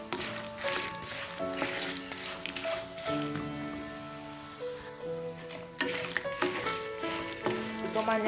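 Spices sizzling in a pan as turmeric powder is stirred in for a tamarind rice dish, a soft crackling fry under a faint melodic background, quiet and uneven, with no talk.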